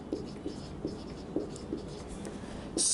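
Writing on a board during a class 7 maths lesson, a series of short scratchy strokes at a rough, irregular rhythm, close and fairly quiet, ending in a brief louder scrape.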